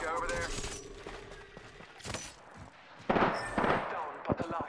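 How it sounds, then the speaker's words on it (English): Gunfire during a video game firefight: scattered sharp shots and short bursts, louder toward the end, mixed with steady talk throughout. "Taking fire."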